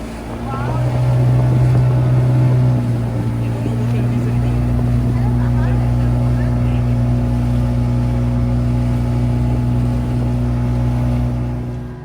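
A small speedboat's engine drones loudly and steadily throughout a ride out to Elephant Beach on Havelock Island, with water rushing along the hull and a voice talking faintly under the engine.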